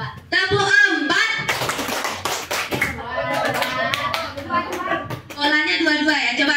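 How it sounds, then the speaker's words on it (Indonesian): A group of teachers claps in a counting exercise, quick overlapping bursts of hand claps mixed with speech throughout, fairly close and loud. "Oke, coba. Tepuk 4."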